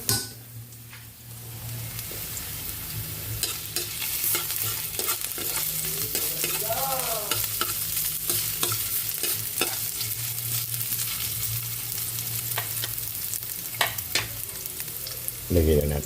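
Grilled milkfish (bangus) sizzling as it cooks, a steady close hiss of frying with occasional stirring and scraping, plus a brief whining tone partway through; no one speaks.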